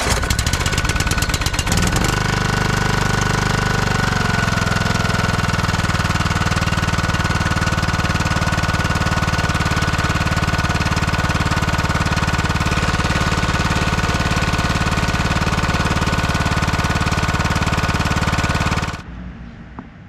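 A Craftsman YTS 3000 lawn tractor engine is cranked over for a compression test, giving a loud, steady mechanical churning that runs for about nineteen seconds before cutting off abruptly.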